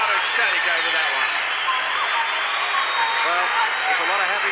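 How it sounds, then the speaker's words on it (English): A packed crowd at a kickboxing match roars and applauds continuously, a dense, steady wall of cheering and clapping that fills the space, loud and sustained throughout. "Crowd are ecstatic over that one."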